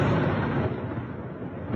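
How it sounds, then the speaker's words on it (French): Explosions from Russian bombardment in Ukraine: a dense, heavy rumbling roar that fills the whole clip, loud and continuous with deep low-end boom and no voices. "partout, des explosions retentissent"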